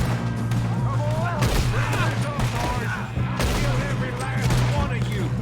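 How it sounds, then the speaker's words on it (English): Gunfire in the video game Red Dead Redemption II, a dense fusillade of rapid rifle and pistol shots with booming reports, mixed with character voices and shouting throughout. "Good shooting, kid."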